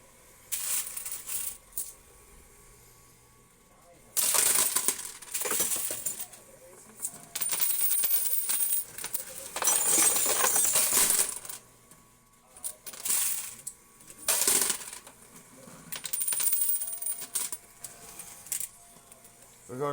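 Coins clattering and dropping, gold coins tossed in, in several loud bursts separated by quieter stretches, with faint background ambience between.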